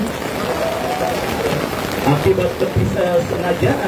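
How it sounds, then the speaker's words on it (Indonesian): Heavy rain pours on an open football stadium during a youth match, a dense steady hiss of falling water with a commentator talking over it throughout. "Hujan semakin deras mengguyur Stadion Milik Brawijaya"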